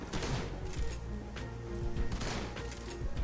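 Shotgun fire in the video game Shadowrun: Hong Kong, heard as a few loud blasts over dense, continuous game combat noise, with no talk.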